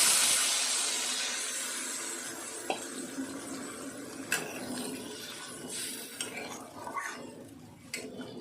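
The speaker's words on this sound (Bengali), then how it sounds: "এবার একটু গরম জল দিয়ে দিতে হবে" Hot water splashes into a simmering vegetable curry, a bright rushing pour that fades over several seconds, followed by a few clinks and knocks of a utensil against the pot, with no one talking.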